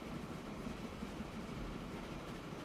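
A train rolls along the line in Transport Fever 2, a steady low rumble of running wheels and carriage noise that holds even and continuous throughout, with no voices.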